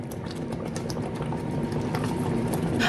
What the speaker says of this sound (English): Just cover it, allow it to slowly steam for 10 minutes.